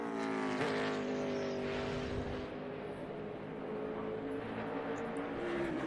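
A NASCAR Sprint Cup race car roars around the track during qualifying, a loud sustained engine drone with shifting pitch as it passes, distant and continuous without talk.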